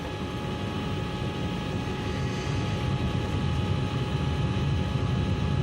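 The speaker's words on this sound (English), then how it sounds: "We try to analyze the sound of the engine." Aircraft engine drone from a cockpit voice recording of Trigana Air Flight 267, a steady, muffled, noisy rumble with faint tonal hum, continuous and moderately quiet throughout.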